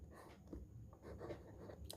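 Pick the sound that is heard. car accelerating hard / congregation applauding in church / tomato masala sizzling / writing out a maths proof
writing out a maths proof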